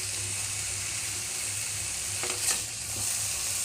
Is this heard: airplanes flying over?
no